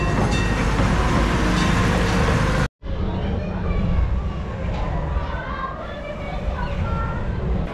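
LEGOLAND Windsor's park train rolls along on its track with a steady, loud rumble and rail rattle, cut by a brief dropout before the running noise continues with some faint background voices.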